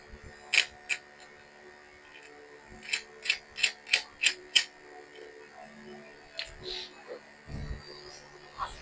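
Metal nuts being tightened on the terminals of a 3.2 volt 100 amp lithium phosphate battery: a run of sharp ratcheting clicks in a quick burst, then a few scattered clicks and knocks, close and fairly quiet.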